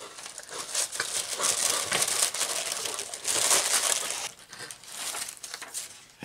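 Paper packing crinkles and rustles close up while a geocaching crate is unpacked, a busy crackling run of handling noises with brief pauses and no talk.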